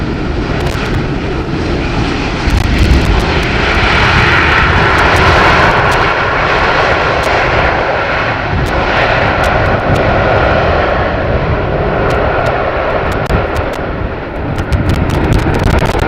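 Small jet airliner arriving on runway 18R at Amsterdam Schiphol in rainy, windy weather, a loud sustained engine roar close by that swells and lingers with wind noise throughout.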